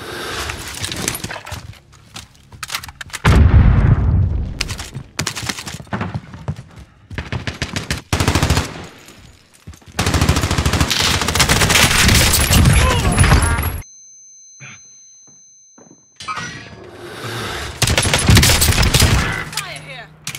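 Gunfire in a shooter video game with a Street Sweeper shotgun, loud and close: dense rapid volleys and heavy blasts in long bursts, a short near-silent gap, then more firing, with players talking over it.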